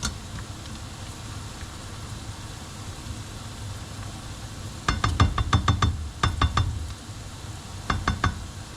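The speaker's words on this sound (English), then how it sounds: "I love the smell of the garlic and onion when they're frying up" Steady low sizzle of garlic and onion frying runs throughout, joined midway by bursts of sharp metallic clinks and scraping from a utensil against the pan.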